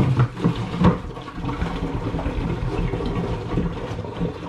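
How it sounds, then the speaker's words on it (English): Fermenting homemade Aperol brew and fruit juice poured into a container, a continuous splashing, gurgling stream of liquid with a couple of heavier glugs near the start, close and fairly loud. "So I'm now going to pour from here back into there with the fruit juice and with that"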